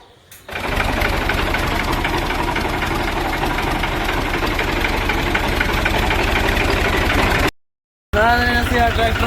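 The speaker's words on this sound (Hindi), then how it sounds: "ए हुण बिस्मिल्लाह पढ़ के असीं हुण कड्ढूंगा ट्रैक्टर" A tractor engine in a Pakistani village starts up after a brief moment and settles into a loud, steady, knocking idle, then cuts out briefly before resuming, with a voice heard at the very end.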